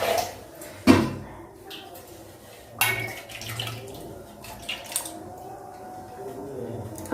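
Water poured into a kadai of Odia-style rohu fish curry, a brief splash and squishing gurgle at the start, then quieter bubbling and a few drips, close by.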